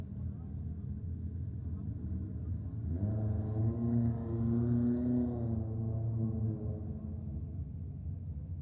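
A drag racing car sits idling at the start line of a drag strip at a New South Wales championship round, then its engine swells into a louder rising roar for a few seconds before easing back to a steady rumble.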